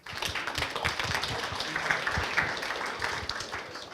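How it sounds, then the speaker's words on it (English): An audience at a Rust developer conference talk gives the speaker a warm round of applause: moderately loud, dense clapping from a roomful of people, steady throughout with no voices over it. "Please give Maciej a warm round of applause."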